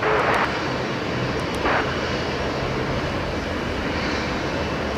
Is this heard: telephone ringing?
no